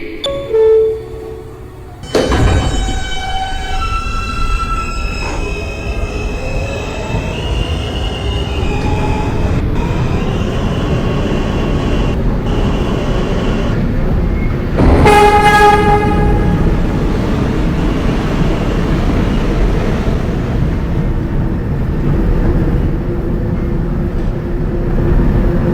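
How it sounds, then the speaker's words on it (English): An R160 J train on the New York subway runs toward Broad Street, with a loud continuous rumble of wheels on track, squealing rail tones and a sharp burst of noise around the midpoint, steady throughout with no talk. "This is a Broad Street bound J train."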